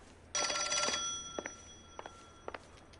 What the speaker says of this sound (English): Who's ringing my phone at this time of night?